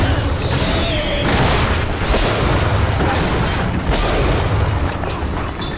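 Gunfire and booming blasts in the video game BioShock Infinite, dense repeated shots and explosions filling the whole stretch with little pause.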